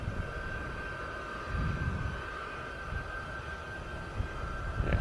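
Jordanian Falcons display team aircraft arriving at the Royal International Air Tattoo, a distant steady propeller engine drone with a sustained tonal hum over low rumble, faint and continuous without talk.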